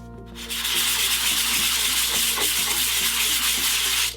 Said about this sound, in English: I'm going to sand this down with some 100 grit sandpaper.